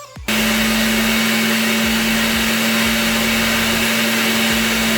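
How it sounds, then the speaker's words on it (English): A blender whirs steadily with a loud, constant motor drone as it purees ginger and sugar for Jamaican rum punch, starting abruptly after a brief moment of quiet and running unbroken to the end. "And then we're going to blend this."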